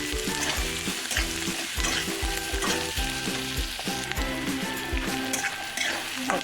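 Chopped onion sizzles in hot oil in a pan, stirred over and over with a regular scraping rhythm that cuts through a steady frying hiss, up close and alone.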